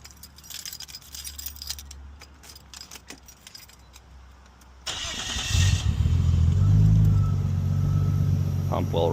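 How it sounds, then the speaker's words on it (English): A Nissan Stagea engine cranks and starts after a stretch of faint keys jangling, then settles into a loud, steady idle that runs to the end. "once again I will start the vehicle"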